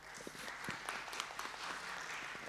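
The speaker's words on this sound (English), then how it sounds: "Give applause." Faint, sparse clapping from a youth summit audience, scattered individual claps over a soft room hum for a couple of seconds.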